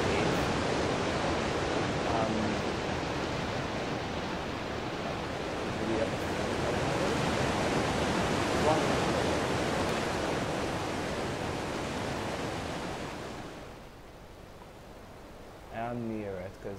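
A waterfall near a cave in the video game Ark: Survival Evolved rushes as a dense, steady roar that fades toward the end, where a voice briefly speaks.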